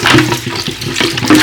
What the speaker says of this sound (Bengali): ঝালনিতে ঢেলে নিলাম, নেওয়ার পর এগুলো আরও একটু ধুয়ে নিই।